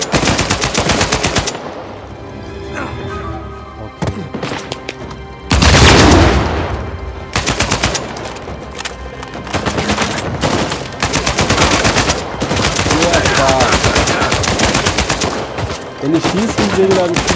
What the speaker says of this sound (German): Schieß auf das Fass.